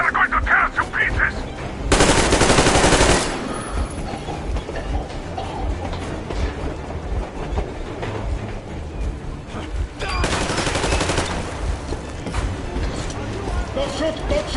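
Bursts of machine gun and rifle fire rattle loudly in a combat scene, with two dense automatic bursts standing out amid ongoing shots, rumble and shouting voices.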